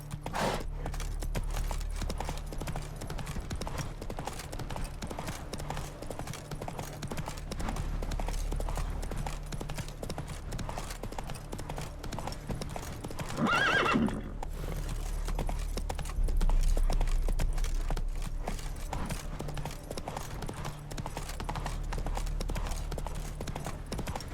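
Horse hooves clip-clop in Witcher 3 Wild Hunt, a steady run of even hoofbeats pulling a cart, with a brief louder rustle partway through and no talk over it.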